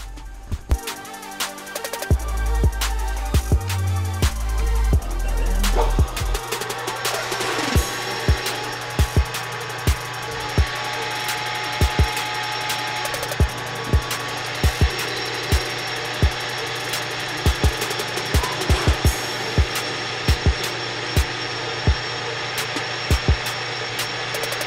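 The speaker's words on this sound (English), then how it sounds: "If I actually tighten the drill." A power drill whines and grinds through a Honda K24 header template up close, with loud bursts at first and then a steady drone broken by sharp, irregular knocks.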